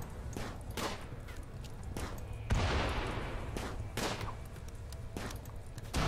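Gunfire in the RimWorld video game as colonists shoot at a sniper: scattered sharp shots and short bursts, with one louder crack midway, at moderate distance.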